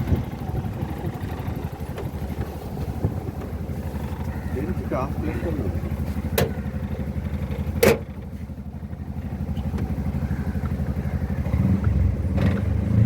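Auto rickshaw ride, with the steady drone and clatter of the small engine running throughout and a few sharp knocks, and people talking over it.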